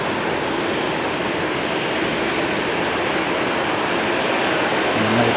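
A Skymark jet airliner in Pikachu livery passes at Haneda, its engines a loud, dense, unbroken roar from start to finish.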